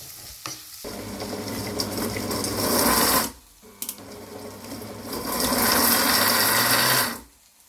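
Mixer grinder whirring in two loud pulses of about three seconds each, separated by a short pause, as it chops kothu parotta.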